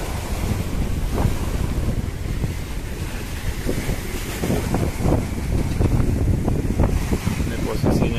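Ocean surf at Wesapa Beach in Kupang, a continuous rolling roar of waves with heavy wind buffeting the microphone throughout.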